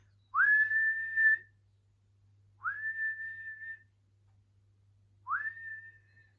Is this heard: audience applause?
no